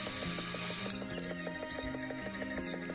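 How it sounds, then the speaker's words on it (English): A power drill bores holes into a wooden post for 10 inch construction screws, its motor whining in short stepped bursts with rhythmic clicking, close and fairly loud. "Now that the post is marked, I can drill two more holes for my 10 inch construction screws."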